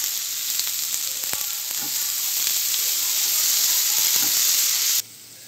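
Cashews sautéing in a pan with salt, a steady bright sizzle with faint scattered taps, dropping off sharply near the end.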